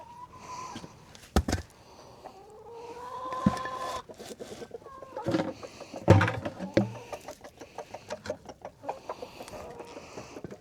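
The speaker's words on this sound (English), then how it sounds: "Watch out, chicken." Chickens cluck nearby in a farmyard, a series of scattered clucks and squawks with a few louder bursts, plus some rustling and knocking in between.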